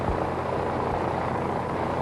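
A WW1 French-built SPAD 13 fighter plane's engine drones steadily, a loud continuous rumbling roar with no pauses, heard alone without speech.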